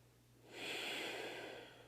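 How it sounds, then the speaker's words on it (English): A single long, deep breath drawn audibly through the nose in a yoga pose swells after a brief pause and holds as a steady breathy hiss. "deep breathing with sound"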